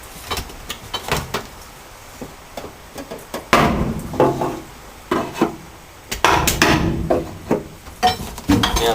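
Hammer blows on a car body panel of a 1985 Mazda B2000 ute in a cramped spot, irregular sharp metallic knocks in scattered bursts, some close and loud, with rustling handling noise between strikes.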